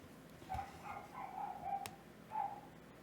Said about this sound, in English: Oh, there goes George, starting barking at something.